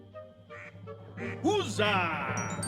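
Cartoonish duck quacks from a murder-mystery video game, a few nasal honking calls in quick succession, fairly loud over a low musical bed, with a voice exclaiming briefly alongside.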